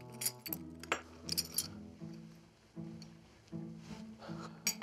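Broken crystal wine-glass shards clink and jingle close up in a few bright, ringing bursts with short gaps, alone without talk.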